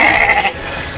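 Soay sheep bleat close by in a pasture at an old military fort, one loud wavering bleat that fades into outdoor ambience.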